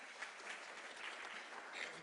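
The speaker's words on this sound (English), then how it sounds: "Can you please give her a round of applause?" Steady applause from an audience, dense clapping that stays even for the whole stretch with no voices over it.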